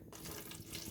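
Water poured steadily into a container for a home electrolysis setup, a continuous close splashing and gurgling pour with no pauses.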